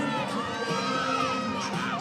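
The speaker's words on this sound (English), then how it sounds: "You can see her sister cheering for her in the background" A crowd cheers and shouts steadily at a college gymnastics meet, with a sister among the voices cheering from the background, a continuous bright roar of whoops and shouting.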